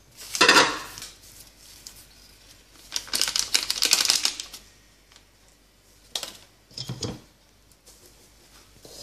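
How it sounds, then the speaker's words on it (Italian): Flour and baking powder being sifted through a metal sieve, with rhythmic rattling and tapping in several bursts separated by quiet pauses. "Ed ora andiamo a setacciare tutte le farine"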